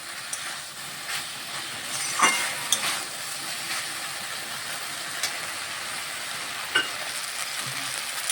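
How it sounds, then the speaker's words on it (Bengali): Chickpea greens stir-fried in a pan give a steady, close sizzle with scraping and stirring clatter, a few sharper clicks and scrapes in the middle, and no speech. "এবার ভালোভাবে মিশিয়ে নিচ্ছি আর একটু ভাজা ভাজা করে নিচ্ছি।"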